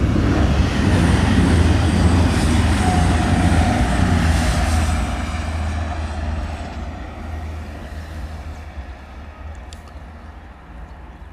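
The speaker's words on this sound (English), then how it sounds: "I can hear the droning noise of it coming down the line." A train on the East Coast Main Line passes with a loud, droning rumble that stays strong for several seconds, then fades gradually as it moves away, with no talk.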